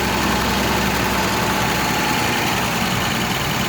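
A 1931 Chrysler Series 70 engine idles steadily nearby, a constant low rumble with even mechanical texture and no voices over it.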